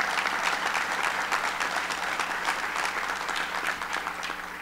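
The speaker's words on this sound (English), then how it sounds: "Let's give them a round of applause." An audience at a relief and recovery announcement claps steadily in a dense, sustained round of applause, fairly close and even, with no speech over it.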